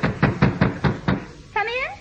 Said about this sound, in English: That's Pop banging his head on the wall.